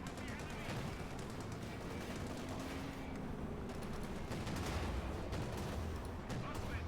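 A Flakpanzer in Company of Heroes 2 fires rapid, continuous bursts of flak, a dense rattling barrage of shots mixed with battle noise, moderately distant, while a commentator talks over it.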